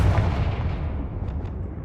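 Deep booming blast of the Confringo fire spell in the video game Hogwarts Legacy, a heavy close explosion with a rumbling tail that fades over a couple of seconds.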